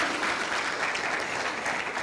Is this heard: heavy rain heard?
no